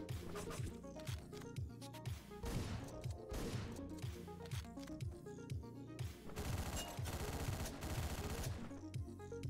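Rapid gunshots from Hotline Miami, sharp repeated bursts fired in quick succession over loud, driving synthwave music with a heavy beat.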